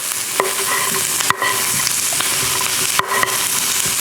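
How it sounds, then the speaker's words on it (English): Chopped onion hits a hot pan for a pork chop bourbon pepper sauce and sizzles loudly and steadily up close, with a few brief stirring knocks and scrapes. "So I'm gonna go ahead and add our chopped onions."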